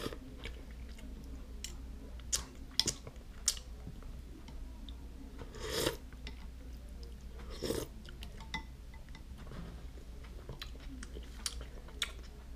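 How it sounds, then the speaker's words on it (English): Quiet, close chewing and biting of spicy Ottogi Yeul ramen noodles, with soft irregular crunches and wet mouth sounds scattered through the stretch. "Let me take a few more bites of this."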